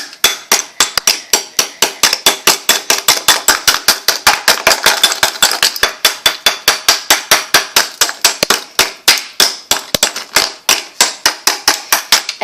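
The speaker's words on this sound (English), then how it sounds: "Let's break all the rest of this ice." A hammer smashes ice around a frozen toy car in a long run of loud, sharp, evenly spaced blows with crisp cracks, heard close and alone.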